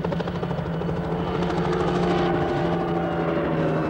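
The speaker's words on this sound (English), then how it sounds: "I am here purely to see what effect the blast from these helicopters will have on the public" Helicopters in 1968 Mauritius hover close overhead, a loud steady rotor thump and engine drone running continuously with a slow swell in the wash.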